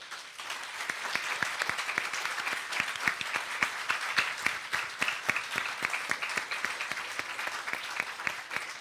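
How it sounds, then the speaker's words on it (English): Breakfast event audience applauding staff and board members, sustained even clapping with distinct individual claps, moderately distant and fairly quiet. "I'd like staff and board to stand so we can give you applause for this"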